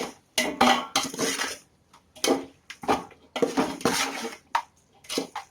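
Chunks of mutton are stirred into biryani masala in a pot at home, and a spoon scrapes and clanks against the metal in irregular, close bursts.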